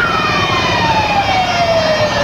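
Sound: police car siren

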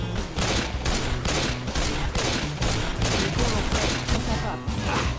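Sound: gunfire in video game Left 4 Dead 2

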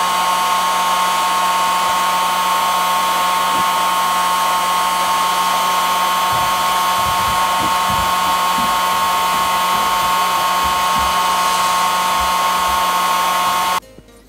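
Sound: heat gun heating an iMac display at about 300 degrees

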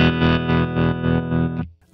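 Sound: Coppersound Loma Prieta tremolo pedal, slow sine wave, big depth

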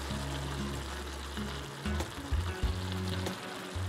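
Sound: cream sauce simmering in pan for keto chicken pot pie

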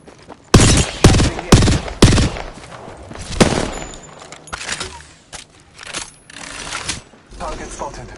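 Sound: gunfire in the video game Apex Legends

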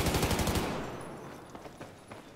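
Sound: hip-fired gunfire in video game Battlefield 4

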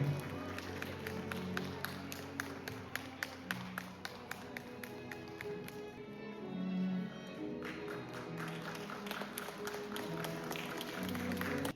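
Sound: wedding guests applauding

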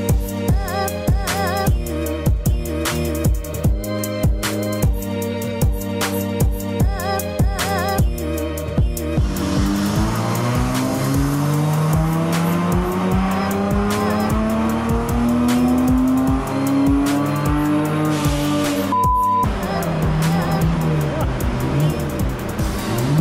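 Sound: tuned car engine revving on a rolling road dyno

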